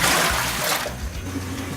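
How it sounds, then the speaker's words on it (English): Hot water is poured back over mashing grains while brewing a wet-hopped IPA. It makes a loud, close, splashing rush that thins into a lighter trickle. "this is just going to get poured back onto the grains to raise the temperature"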